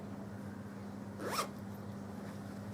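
A small knitted zip bag's zipper pulled once in a short, quick rasp, close and clear against a steady low background hum.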